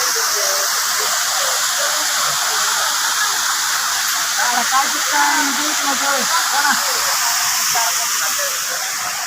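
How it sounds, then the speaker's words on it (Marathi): A monsoon waterfall in the Konkan hills pours down from a great height, making a loud, unbroken rushing roar while a voice talks over it. "कसं पाणी वाहत आहे आणि किती उंचावरून ते पाणी वाहत आहे."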